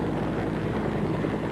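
A Huey helicopter used for military pilot training over a pine forest gives off a steady, loud, dense rotor and engine roar that fills the whole moment. No voices are heard.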